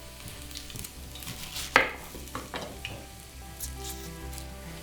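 Roughly chopped garlic and onion frying in plenty of oil for an Italian tuna pasta make a close, steady sizzle, with a sharp clatter of the pan partway through and a few lighter knocks afterward.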